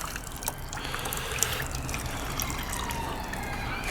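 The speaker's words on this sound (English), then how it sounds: "Just let the excess drip off." Excess water dripping and trickling off a freshly dunked Moerman Combinator window-cleaning applicator after a shake, a soft steady patter of fine drips heard up close with no talking.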